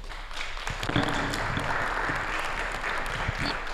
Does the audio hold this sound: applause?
yes